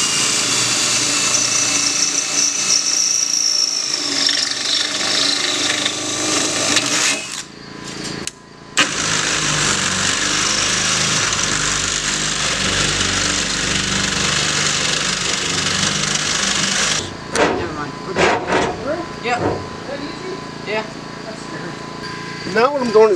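A loud power tool runs almost nonstop, tightening bolts on all-thread while building a cargo trailer. The whirring drive cuts out briefly twice, and a voice is heard near the end.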